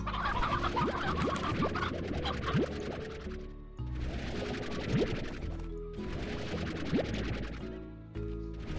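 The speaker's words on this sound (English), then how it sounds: "Oh, more chickens." Chickens cluck and squawk repeatedly in the video game Slime Rancher over a busy, continuous backdrop of game music and effects, with a few brief pauses.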